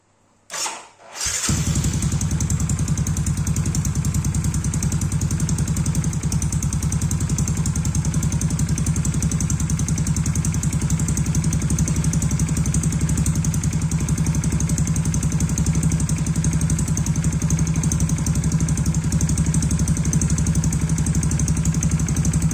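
A Yamaha X-Ride motorcycle engine catches after a short cranking burst, then settles into a steady, loud, even idle that runs unchanged for about twenty seconds with no revving.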